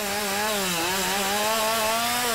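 A video game chainsaw in Lumberjack Simulator cuts into a tree that is too large for it, giving a continuous, steady, buzzing engine drone that wavers slightly in pitch and stays loud and close throughout.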